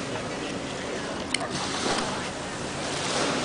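Ocean waves roll in at a chilly, overcast Lisbon shore, giving a steady broadband wash of surf mixed with wind buffeting the microphone. No one speaks.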